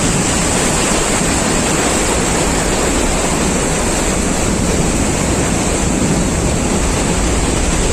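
Sea waves breaking on the beach at Mandarmani, a steady loud roar of surf with continuous wash and no pauses, without any voices.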